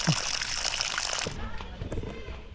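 Water flowing into a fishpond, a broad steady rush and slosh that fills the first half, then drops away to quieter trickling with voices talking nearby.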